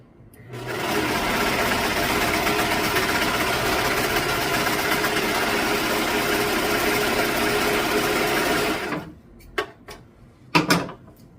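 A sewing machine runs continuously for about eight seconds stitching denim, a loud close mechanical whir, then stops, followed by a few handling clicks and knocks.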